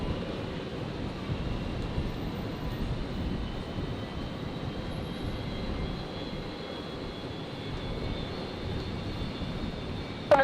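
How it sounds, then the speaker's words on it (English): An airliner roars down runway 01 right at Brisbane airport on takeoff, a steady broadband engine rumble holding at fairly constant loudness throughout, with a brief sharp sound at the very end. "Cleared for takeoff, going 425 Delta"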